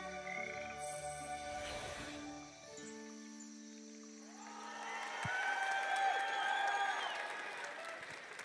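Audience applause at the Summer Game Fest 2023 live show, a broad wash of clapping that swells in the second half after music and game trailer audio fade out, with some voices mixed in.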